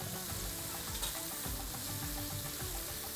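Onions and curry leaves sizzle in hot oil, a steady close crackle with soft stirring and no voices.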